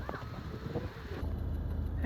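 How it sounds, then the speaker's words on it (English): Wind blowing outdoors near a coastal rock carving, a rushing broadband roar that buffets the microphone and grows stronger partway through, with faint talk in the first half. "it's very windy outside."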